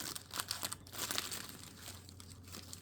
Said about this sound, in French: Pour ceux qui n'aiment pas les papiers et les bruits un peu ASMR.